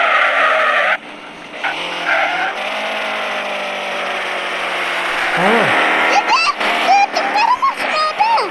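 A VAZ 2107 car in a video game skids with long tire squeals over a constant engine roar, several sharp squeaks late on, loud and close.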